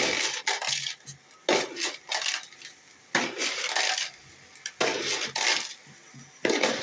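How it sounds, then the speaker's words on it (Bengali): Spoonfuls of sugar go into palm fruit pulp, six in all, each tipped in with a gritty rush and a clink of the spoon. The bursts come in a loose, repeated rhythm, close and fairly loud. "এবার আমি এর মধ্যে দিয়ে দেবো চিনি"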